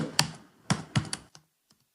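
Several quick clicks on a computer keyboard while entering an HTML document title, in short bursts of a few keystrokes spread over under two seconds, fairly close and clear, tailing off into quieter taps with no talking.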